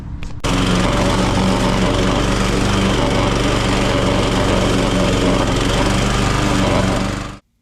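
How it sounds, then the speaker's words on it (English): A Grin PM46A mulching lawn mower runs flat out on its highest speed setting through overgrown grass at a commercial site. Its loud, close, steady engine roar cuts in abruptly and holds for about seven seconds before dropping away. "The mower was on the highest setting, the highest speed, and although it didn't leave a kind of real good finish, it did plough through it."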